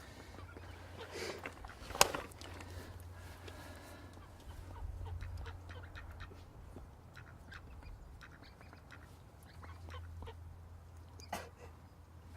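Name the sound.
duck that stole the fishing bait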